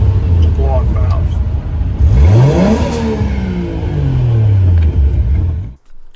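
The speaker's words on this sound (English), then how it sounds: "So no more super loud compress and surge. Just nice, clean blow-off valve." A 1JZ-powered Mazda RX7 revs up with a rising engine whine, then a Tial Q blow-off valve vents in a loud breathy whoosh before the engine note settles and cuts off near the end.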